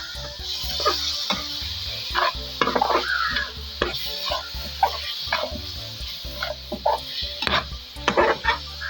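Beef liver fries in a pan with onion, salt and green chilli, giving a steady sizzle. Scattered stirring clatters and scrapes of a utensil against the pan sit on top of it.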